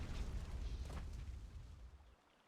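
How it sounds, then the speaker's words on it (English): A deep, rumbling cannon boom from the video game Jade Empire, loud and low at first, then fading steadily over about two seconds into quiet, with no talking. "They have cannons."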